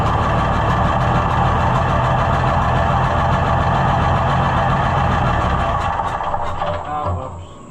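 An engine in a junkyard Super 77 idles steadily and loudly while its carburetor is adjusted, a constant droning rumble that wavers slightly and eases off toward the end.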